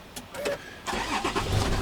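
A Land Rover LR3/4 engine cranking over and catching, then settling into a steady idle close by, with a brief faint voice early on.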